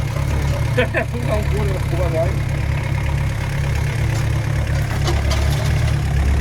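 A 1.9-litre turbodiesel (ABL) engine from a Volkswagen T4 idles with a steady low rumble and faint knocking, while a person speaks briefly over it.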